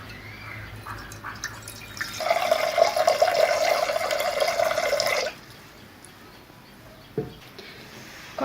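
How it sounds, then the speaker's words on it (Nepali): Water pours steadily from a tap into a cooking pot for about three seconds, a bright continuous splashing stream that stops abruptly, leaving a quiet kitchen with a single faint knock afterward. "भाँडोमा अलिकति पानी राखेर उमाल्नुहोस्"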